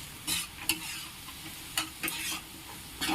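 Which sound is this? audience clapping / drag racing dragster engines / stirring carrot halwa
stirring carrot halwa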